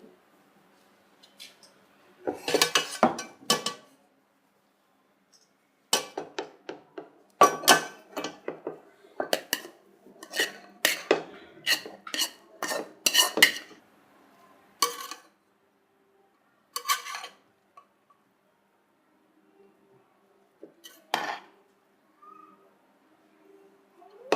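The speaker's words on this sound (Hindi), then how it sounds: "अब मैं चावलों के साथ सब्जी मिक्स कर रही हूँ।" A spatula stirs and scrapes vegetables through cooked rice in a pan for restaurant-style vegetable fried rice, making close, loud bursts of clattering scrapes in uneven runs with short pauses, then a few quieter clinks near the end.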